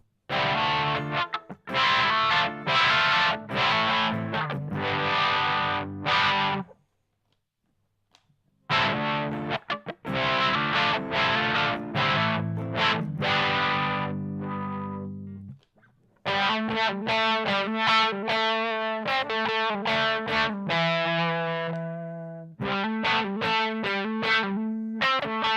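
Distorted electric guitar through a Dunlop 535Q wah pedal plays bursts of chords and riffs, the tone sweeping as the pedal rocks, with two short silent gaps between loud, close passages and no talking.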